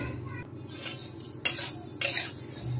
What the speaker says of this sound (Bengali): দেখেন নেড়ে চেড়ে ভালো করে আমি ডাল ভেজে নিচ্ছি।